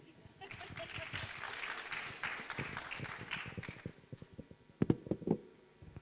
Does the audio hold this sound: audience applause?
yes